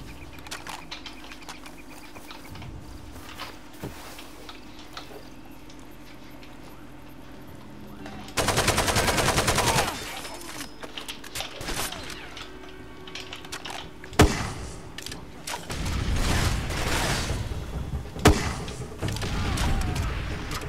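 Golden AK rifle fire in Far Cry 2, with loud bursts and sharp single cracks that cut through quieter background sound and muffled thumps.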